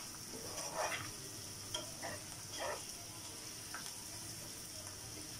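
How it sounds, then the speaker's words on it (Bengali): Eggs are stirred with spice paste in a pan, giving a faint steady sizzle with a few soft scraping strokes of the spoon. "দিয়ে ডিমের সাথে মশলাটাকে একটু মাখিয়ে নেব"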